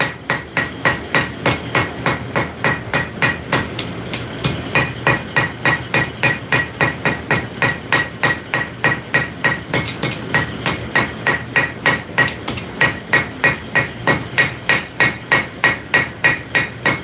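Hot metal struck on an anvil while forging a taper, a steady run of loud, close hammer blows in an even rhythm with ringing strikes throughout, no voices.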